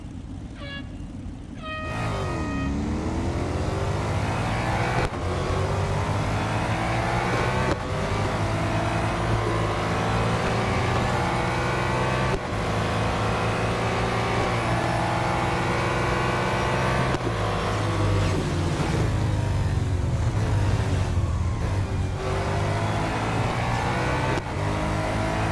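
Racing car engine in the Real Racing 3 mobile game, revving loud and continuous with rising and falling pitch as it accelerates through gear shifts, with no speech over it.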